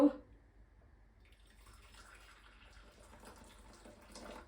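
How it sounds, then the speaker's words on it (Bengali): Hot water pours into a container for making coffee for tiramisu; a faint, steady trickling stream starts just after a short knock and runs quietly to the end. "এখন আমি এখানে কি করব গরম পানি নিব"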